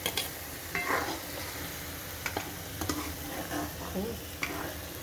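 Soaked rice is added to a pot and stirred as it fries, the spoon scraping and knocking against the metal in short strokes over a low, steady sizzle.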